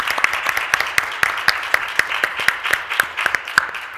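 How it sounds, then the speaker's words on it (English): A conference audience at an education and health tech event claps for a panel, producing steady, fairly loud applause with distinct sharp claps spaced roughly evenly throughout. "Why don't we give our amazing panel a great round of applause?"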